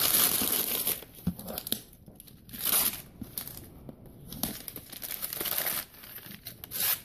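A cardboard box being opened and cut with a knife, with close crinkling, scraping and tearing in uneven bursts separated by brief quieter pauses.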